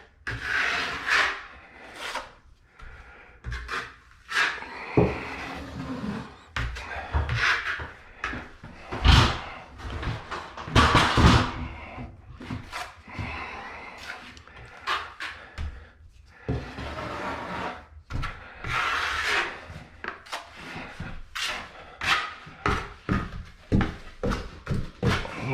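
A trowel spreading drywall mud over a corner bead while refinishing mobile home walls, repeated scraping and rubbing strokes in irregular bursts, close and moderately loud.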